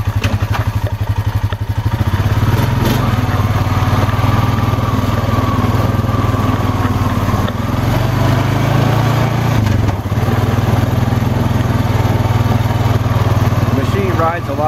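A 2015 Honda Rancher ATV on Sedona Ripsaw tires drones loudly and steadily throughout as it rides down a road, its low engine hum constant with bumpy rattles and clatter, no one speaking.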